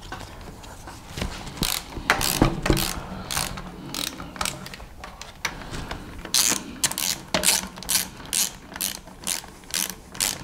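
A ratchet tightens screws on a Vespa PX 177cc engine being rebuilt after engine failure, with quick bursts of metallic clicking in irregular runs that grow more rhythmic toward the end, close and fairly quiet with no talk.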